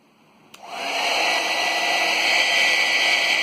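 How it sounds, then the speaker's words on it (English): A hair dryer switches on with a click and blows air into a flow sensor, settling into a loud, steady rushing whoosh that holds to the end with no talking. "I am using a hair dryer to blow air into the flow sensor"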